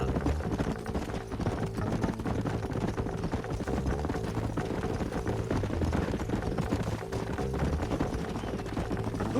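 Horses' hooves clip-clop steadily in a Red Dead Redemption game scene, a continuous rhythmic trotting of several animals at moderate volume with no talk over it.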